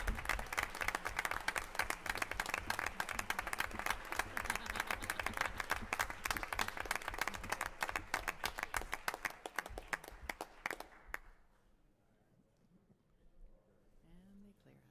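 Parents and family members at a board of education meeting clap in a lively, close round of applause with distinct individual claps, which thins out and stops after about eleven seconds, leaving a quiet room with faint voices.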